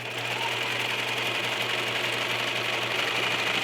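A 4-thread overlock serger runs steadily while stitching a garment cuff, giving a continuous, close, even motor hum with fast needle chatter that stays loud and level throughout, with no voices.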